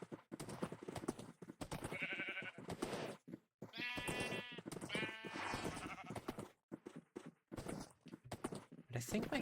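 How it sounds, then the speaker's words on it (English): Sheep in Minecraft bleat in several wavering calls, the cries bunched together in the middle and near the end, with a person talking continuously over and around them. "see how many sheep I have"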